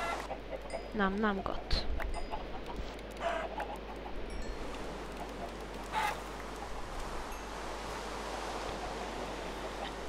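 Chickens cluck and squawk in short bursts in the game Minecraft, over a constant low hum and hiss, with a person briefly speaking early on.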